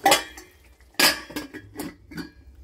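A lid is set on a metal cooking pot on a stove after the gas is switched off: a few sharp metallic clinks and clatters in quick succession, close and fairly loud.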